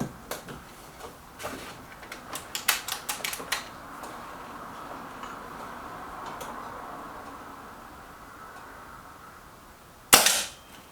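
A Kral NP02 air rifle fires at a target, giving one sharp, close crack near the end after a quiet stretch. A scattered run of small clicks comes earlier, likely handling of the rifle.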